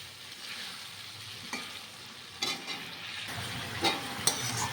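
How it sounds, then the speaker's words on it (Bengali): Shredded cabbage frying in a little oil with salt and turmeric, giving a steady soft sizzle with a few sharper stirring scrapes and clinks near the end, close by and without talk. "এখন বাঁধাকপিটা দিয়ে দেবো তারপরে লবণ হলুদ সব দিয়ে দেবো"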